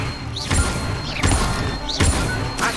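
A Levioso spell is cast in the video game Hogwarts Legacy, with repeated whooshing swishes and thumping impacts about every three-quarters of a second among other spell effects.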